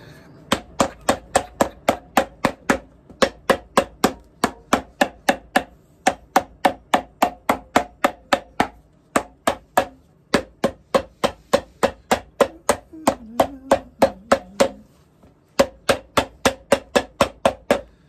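Steady, rapid hammer strikes on an Alden Indy leather boot, dozens of sharp evenly spaced blows in bursts with brief pauses, close and loud, no talking.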